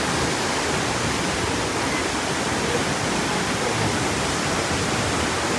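Dense, constant roar of rushing water at Popatgaon waterfall near Chiplun, loud and close, unbroken and with no voices.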